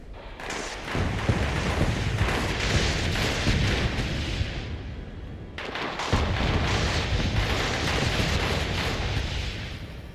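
Automated turrets in the video game Fallout 76 fire continuously at enemies, a dense roar of gunfire and blasts that runs almost without break, with one short dip in the middle.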